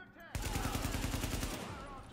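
A rapid automatic burst of gunfire in the video game Tom Clancy's The Division, evenly spaced rounds hammering continuously for nearly two seconds, loud and close.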